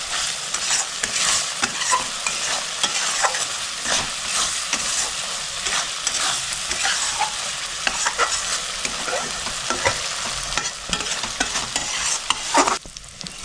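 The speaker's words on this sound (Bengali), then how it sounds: "মশলা গা থেকে যত সময় তেল না ছেড়ে দিচ্ছে, খুব সুন্দর করে মশলাটা কষাই নেব" Spice masala for a Bengali prawn curry (golda chingri kalia) is stir-fried in oil, giving a steady loud sizzle with constant scraping of the spatula and a few sharper clatters near the end, with no voices.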